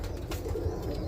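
A roller pigeon gives a brief, low cooing call up close, soft and throaty, with no talking over it.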